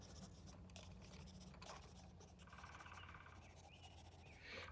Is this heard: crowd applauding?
no